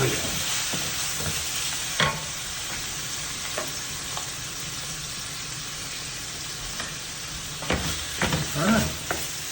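Pinto beans fry with vegetables and pork backfat in a pan, a continuous sizzle broken by scraping stirs and clanks of the utensil, louder toward the end, with no voices.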